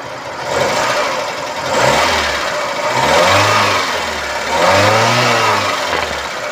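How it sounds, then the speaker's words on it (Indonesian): A 1990 Toyota Starlet EP80 engine is revved up repeatedly toward high RPM, rising and falling in several swells over a steady running note, loud and close with no talk. "sekarang coba kita naikkan RPM, kita dengerin ada suara janggal apa tidak saat RPM tinggi"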